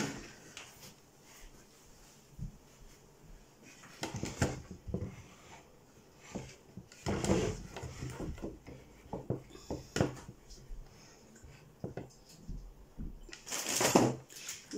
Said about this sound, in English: I just still have 1, 2, 3, 4, 5 screws to put in. So I'm just going to do that now.